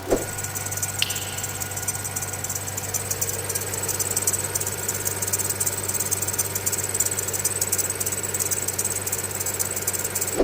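An idling car engine hums while a worn, hardened serpentine fan belt gives a thin, high-pitched squeal that chirps rapidly and steadily above it at a cold start.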